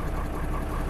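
A Deutz DX 6.10 tractor with its 5655 cc F6L912 six-cylinder engine idles in a steady, even drone, heard alone with no talk over it.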